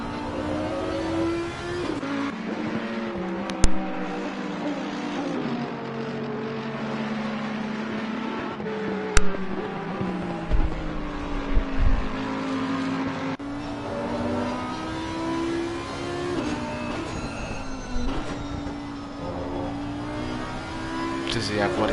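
Race cars at the Zolder circuit, including a Lexus and a 600-horsepower Audi, brake hard and accelerate, their engines droning and shifting pitch steadily under continuous live commentary.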